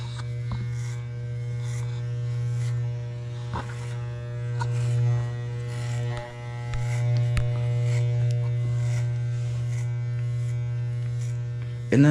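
An electric hair clipper buzzes steadily and close by as it cuts hair clipper-over-comb during a medium fade in a barber shop, a constant motor hum with small shifts as the blade moves through the hair.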